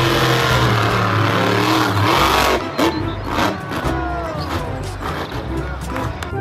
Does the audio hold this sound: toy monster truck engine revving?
yes